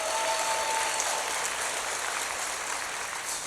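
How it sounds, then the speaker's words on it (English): An audience applauding at a live summit event, dense sustained clapping from a large crowd, loud and even for several seconds with no talk on top. "Can we have another round of applause for them?"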